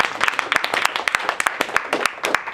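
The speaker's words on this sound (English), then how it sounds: "This round of applause is for you." A small team at a group meeting claps in a brisk, close burst of distinct individual hand claps lasting a couple of seconds.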